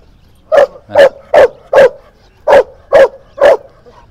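A big, sturdy dog barks loudly and close by at the Beshbola dog market in Fergana, seven sharp barks in two quick rhythmic bursts with a short pause between them.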